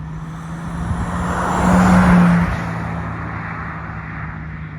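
MK3 Toyota Supra being driven, a steady engine drone with a constant low hum that swells briefly midway then settles, heard from nearby without any talking.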